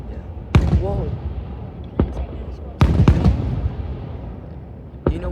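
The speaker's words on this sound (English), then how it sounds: "The people underneath there are lighting off the fireworks." Fireworks set off by people below explode in a handful of sharp, booming bursts spread irregularly over a few seconds, with people talking and reacting throughout.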